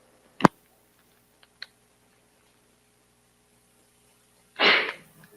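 After a sharp click and a couple of faint taps in a quiet room, a single short sneeze bursts out near the end.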